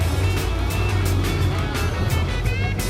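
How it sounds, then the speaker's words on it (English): An off-road 4WD truck engine at a Tuff Truck Challenge event drones steadily and loud as the vehicle approaches, a continuous low rumble with rising revs and no pauses. "Here we go, vehicle heading my way."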